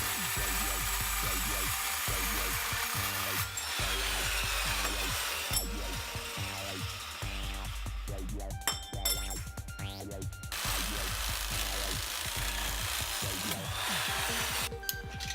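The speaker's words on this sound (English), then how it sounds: "I'm gonna probably take a Sawzall and just cut that weld." A reciprocating saw cuts through a weld on the frame of a Suzuki GS650 motorcycle in a workshop, a loud, continuous rasping buzz with metallic clinks and brief pauses between cutting strokes.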